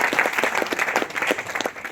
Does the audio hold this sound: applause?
yes